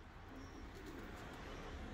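Pigeons coo softly in a low, repeated murmur, faint against a steady background hum.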